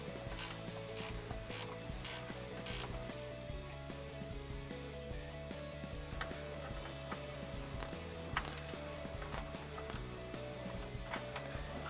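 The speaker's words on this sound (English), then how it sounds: "You're going to need an 8mm ratcheting wrench or an 8mm socket." An 8mm ratcheting wrench clicks rapidly and steadily while backing out fender liner bolts on a Jeep Wrangler TJ, the close metallic pawl chatter running continuously and alone for the full length.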